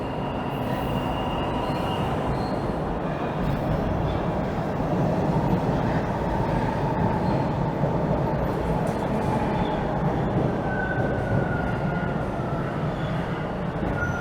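An eastbound subway train pulls into Toronto's Warden station, a steady loud rumble of wheels and motors filling the platform, with faint wheel squeals rising above the roar.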